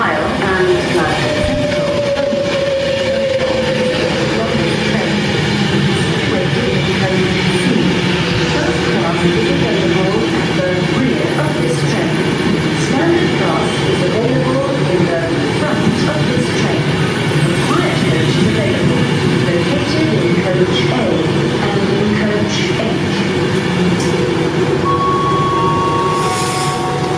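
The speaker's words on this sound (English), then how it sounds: "1227 Virgin Pendolino service to Glasgow Central, calling at Wigan Northwestern, Preston, Lancaster, Oxenholme Lake District," A Virgin Pendolino train sounds at Warrington Bank Quay station, a steady rumble and rolling clatter filling the platform, with a station announcement and other voices heard over it.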